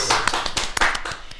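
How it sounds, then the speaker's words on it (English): A small group of five people claps unevenly, each slap sharp and close, in a brief ragged patter that fades quickly. "5 people clapping"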